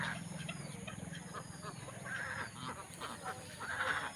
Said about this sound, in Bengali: হাঁসগুলি করে কোলাহল